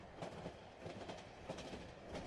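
A night train rolls steadily along its rails, a dense rumbling wash with rhythmic clickety-clack beats of the wheels over the joints, heard from inside a luxury sleeper cabin.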